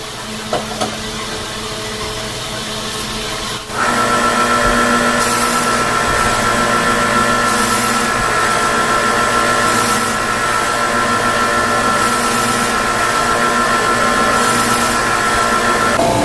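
A meat slicing machine, just repaired after a broken wire, slices jamon de bola ham. A low background hum jumps to a loud, steady motor whine a few seconds in and holds, with no speech.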